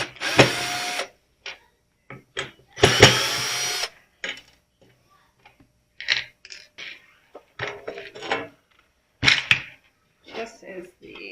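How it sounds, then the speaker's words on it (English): A Surf Prep sander scuffs a mission-style wooden buffet panel in short, intermittent bursts of bright abrasive whirring, separated by quiet pauses and handling clatter, close to the listener. "when I scuff my pieces, I like to use my Surf Prep sander."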